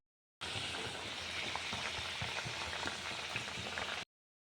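Taro curry reheating in a pot, a steady close sizzle and gentle bubbling hiss that holds evenly for a few seconds, with no talking.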